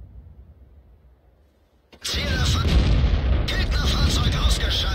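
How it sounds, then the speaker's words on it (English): Artillery fire in World of Tanks during a clan battle: after a quiet, low rumble, a sudden loud boom erupts and keeps roaring with dense crackling blasts through the remaining seconds. "Arty shoot already."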